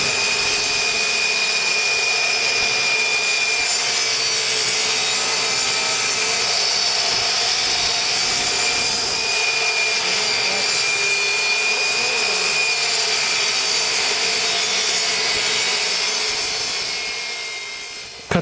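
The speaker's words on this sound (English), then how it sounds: "your next step is to cut your backer board. You do this the same way as you cut the plywood." A power saw cuts backer board for a granite kitchen countertop installation, a loud, steady whining drone with grinding texture that runs continuously for most of the stretch, then tapers off near the end.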